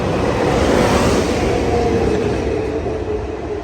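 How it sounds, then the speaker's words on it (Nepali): A train rolls into a station in South Korea on a trip to Busan with a loud, continuous rumble and whooshing roar, a faint squeal rising briefly as it slows, no voices. "ठ्याक्क लाएर ल ट्रेन आइपुग्यो"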